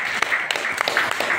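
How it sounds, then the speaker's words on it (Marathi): An audience claps together at an 80th birthday celebration, a soft, steady patter of many hands heard from a distance without a break. "त्याबद्दल आपण टाळ्या वाजवून या प्रसंगाला"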